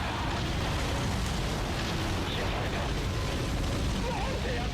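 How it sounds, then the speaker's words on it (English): Tanks being blown up in the Godzilla PS4 video game, heard as a continuous loud wall of explosive rumble and roaring destruction with deep booms throughout. "That just gives me an opportunity to blow up more tanks."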